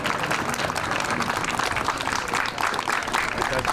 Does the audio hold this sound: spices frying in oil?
no